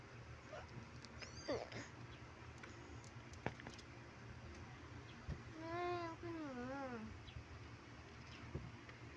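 A dog whimpers and yips close by in high, wavering whines, with soft rustling and faint background voices around it.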